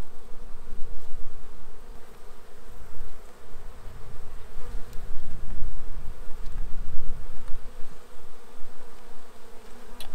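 Honey bees drone steadily at an opened weak beehive being merged with a stronger colony, a dense, continuous buzz that is loud and close throughout with no talk.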